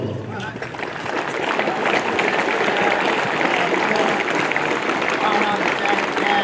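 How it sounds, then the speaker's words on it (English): A crowd claps steadily at an outdoor school annual sports meet, a dense, sustained wash of applause that swells after the first second and holds loud throughout. "A huge round of applause."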